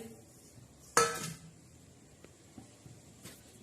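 An iron tawa set down on a gas stove before roasting khursani chillies gives one sharp metallic clank, followed by a few faint light clicks against a quiet kitchen background.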